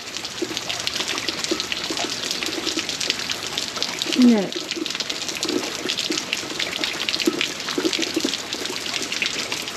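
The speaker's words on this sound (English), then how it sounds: "My gutter, there's so much rain, my gutters can't handle the rain." Heavy rain, about 4.2 inches in a day, pours over overflowing house gutters. It makes a steady, dense rush of splashing water throughout, with a brief brighter splash midway.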